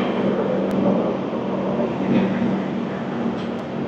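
The 12245 Duronto Express on the Howrah–Bhubaneswar run rolls out with a loud, steady rumble and a low droning hum, broken by a couple of faint clanks. No voices are present.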